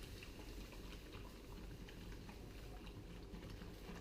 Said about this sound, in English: So I'll pour a little bit into my little bowl here.